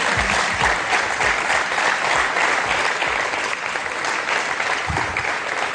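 Studio audience at a Tunisian TV talk show breaking into loud, sustained applause, thick even clapping that carries on for several seconds with no speech over it.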